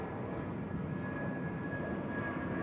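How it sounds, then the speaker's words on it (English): Airliners departing runway 16 at Zurich Airport pass overhead, a steady broadband jet roar that holds evenly throughout, with a faint constant whine riding on top. "we have some takeoffs on runway 16 which are coming overhead"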